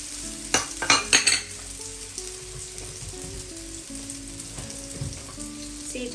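Drunken noodle sauce of tomato sauce, fish sauce, pork seasoning and sugar sizzles and fries in a pan, opening with a few sharp clattering stirs of a utensil, then settling into a quieter steady sizzle.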